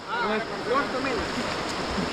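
Shallow, low water in a Konkan stream flows and burbles steadily nearby while people talk over it.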